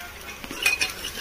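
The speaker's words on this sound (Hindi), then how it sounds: "अदरक को हम मिक्स कर लेंगे," Ginger goes into golden brown fried onions in a pan, and a metal spoon stirs it with a couple of quick, close clinks over a faint sizzle.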